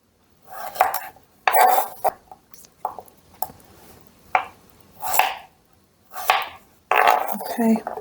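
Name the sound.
chopping carrots and parsnip into circles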